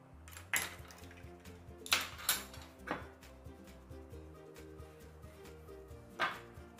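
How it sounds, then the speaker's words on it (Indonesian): A spoon or whisk stirs pandan milk pie filling mixed with egg yolks in a bowl, giving a handful of light, close clinks and scrapes against the bowl at irregular intervals, with no talking. "Aduk sampai rata."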